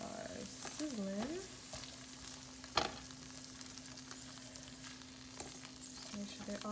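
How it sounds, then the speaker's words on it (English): Green beans sizzle steadily in hot oil, a constant crackling hiss, with a faint voice and a brief clatter of a utensil partway through. "here are the green beans. They are sizzling."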